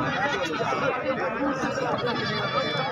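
Goats bleat repeatedly at a goat market amid steady chatter of several people nearby, the animal cries wavering through the dense crowd noise.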